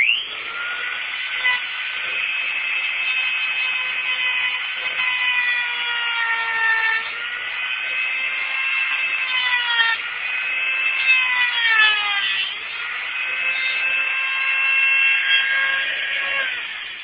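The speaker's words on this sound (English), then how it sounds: "I'm just trying to cut that end of the bolt off." Power tool cutting off the end of a seized exhaust bolt during an exhaust leak repair, a steady high whine with pitch that wavers and dips under load, running continuously up close.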